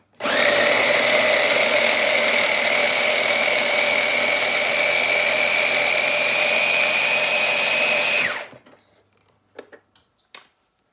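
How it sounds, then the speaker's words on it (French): A food processor grinds chestnuts loudly and steadily for about eight seconds, then cuts off, leaving a few faint clicks and knocks. "Et je vais mouliner un petit peu"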